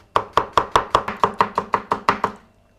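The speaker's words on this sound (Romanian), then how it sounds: "O să-l tai așa în rondele mici." A knife chops a chili pepper into small rounds on a board, about eleven crisp, evenly spaced cuts in a steady rhythm, close and clear, with no talking.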